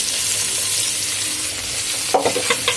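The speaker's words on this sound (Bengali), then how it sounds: "দিয়ে এটা ভালো করে আমি নেড়ে চেড়ে নেব।" Marinated soybean chunks and fully cooked tomatoes fry in a pan with a constant sizzle. Near the end, a spoon scrapes and knocks in a quick run of strokes.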